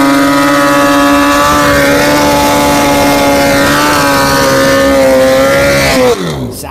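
A nitrous-fed Suzuki Hayabusa drag racing motorcycle engine holds a loud, steady high-revving drone with a rising pitch, then cuts off abruptly near the end.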